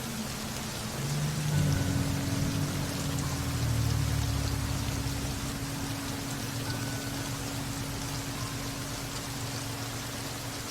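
Heavy rain falling on a very rainy night in Iguatu, Brazil, picked up by a security camera as a dense, continuous hiss with a low rumble swelling early on, no voices.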